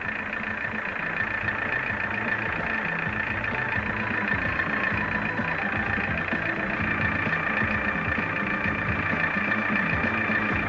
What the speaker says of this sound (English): Gear shifting is made with the engine running at a constant speed of approximately 900 RPM